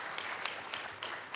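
Audience applause at a government reflection plenary of a national conference, a steady mid-level patter of many hands clapping throughout with no voices over it.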